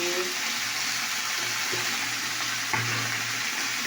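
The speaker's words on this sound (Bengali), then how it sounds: "তো দেখতে পাচ্ছ এখানে শুকনো লঙ্কা ভাজা হয়েছে" Dried red chillies fry in oil in a home kitchen, giving a steady broadband sizzle that runs throughout with small bursts as things shift in the pan; no one speaks.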